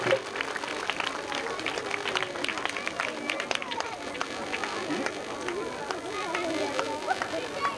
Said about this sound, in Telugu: ప్రస్తుతంగా మనం అందరూ చప్పట్లు కొట్టి ఆయన ఆహ్వానిద్దాం.